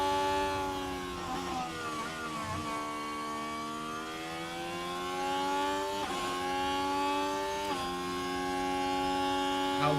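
F1 car engine in the video game F1 Manager 24, running with DRS open: a steady high-pitched harmonic whine that rises and falls with gear changes across the lap, loud and close with no talk over it.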